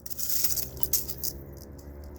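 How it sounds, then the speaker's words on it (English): A Saxon reenactment helmet rattles and clinks in a brief, close, metallic jangle with scattered small knocks, heard alone with no talking. "And that's the noise of the helmet."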